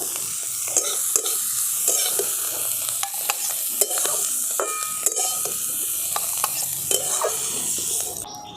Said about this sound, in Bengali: এরপর মাছটাকে আমি তুলে নিচ্ছি।